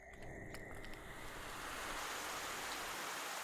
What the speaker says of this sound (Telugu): చాలా ఎక్కువగా వర్షం పడుతోంది, తుఫాను ఉంది.